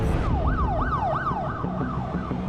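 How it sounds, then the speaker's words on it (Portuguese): A wailing emergency siren rises and falls in quick repeated sweeps, loud and close, over a low rumble of traffic. "Uma sirene."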